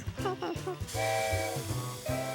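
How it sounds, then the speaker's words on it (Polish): In a cartoon, steam hisses out of a small white toy boat with a propeller, a steady breathy whoosh over bouncy music, with brief cartoon voices at the start. "Tu leci para."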